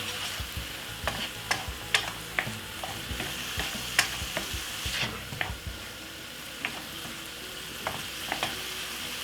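Fried rice sizzling steadily in a hot pan while a utensil stirs it, with frequent sharp scrapes and taps over the constant frying hiss.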